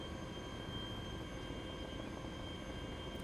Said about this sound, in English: Just trying to land this. This plane is too big.